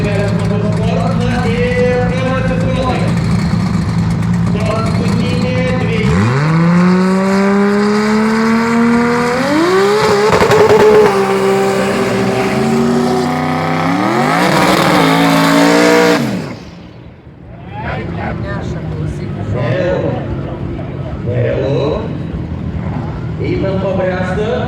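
Drag racing cars roar hard through rising gear changes at Drag Fest 2016 in Kazlų Rūda, the engines loud and close, then cut off sharply into a lower idle rumble while a commentator speaks throughout.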